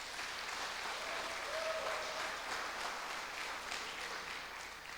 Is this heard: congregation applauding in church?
yes